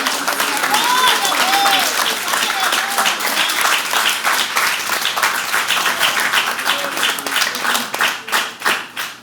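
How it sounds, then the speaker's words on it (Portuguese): A church congregation claps in a sustained round of applause for the Lord, dense and energetic, then thins into slower, more distinct rhythmic claps toward the end. "Você pode dar uma salva de palmas para o Senhor?"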